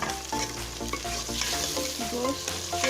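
Meat frying and being stirred in a hot pan for a Pakistani chicken qorma, a steady loud sizzle with repeated scraping stir strokes throughout.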